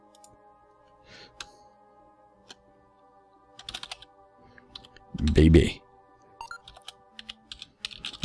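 Typing on a computer keyboard while playing KSP Rescaled: scattered quick key clicks and short bursts of tapping, close and fairly quiet, with a man's brief spoken word and a louder thump midway.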